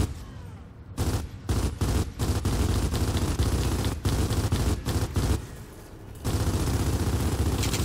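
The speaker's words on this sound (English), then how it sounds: "I'm shooting the thing. I emptied my clip." Sustained automatic gunfire in Gears of War 4, aimed at an exposed core, rattles loud and close in long bursts with brief gaps until the clip is emptied.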